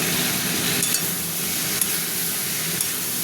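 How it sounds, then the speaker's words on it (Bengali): A pan of prawns, tomato and potato sizzles evenly while a spatula stirs it, with a few light scrapes and taps over the constant frying hiss, and no voices. "অনেকক্ষণ ধরে ভাজলাম"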